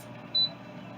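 A single short, clear electronic beep sounds from an air fryer timer being adjusted, brief and fairly close against a quiet background.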